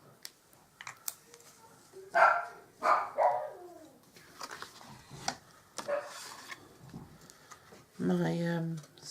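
A puppy barks and yips in short bursts near a bathroom door indoors, sharp yelps and a longer whine toward the end, with some light tapping and household noise between.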